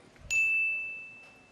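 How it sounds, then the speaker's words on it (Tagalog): A single debate timer bell rings once in a presidential debate hall, a sharp ding that rings on as a long, slowly fading tone over a quiet room. "Ang unang bell po ay 10-second mark, so you have 10 more seconds after the first bell"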